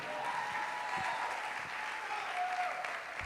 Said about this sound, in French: Applaudissons ensemble, applaudissons ensemble.